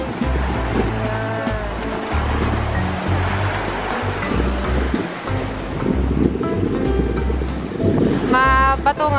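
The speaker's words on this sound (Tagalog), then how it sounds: "Nakaka-relax yung sound ng waves." Ocean waves wash against a rocky beach in La Union, a continuous rushing surf with rumbling swells and wind buffeting the microphone, and someone speaks briefly near the end.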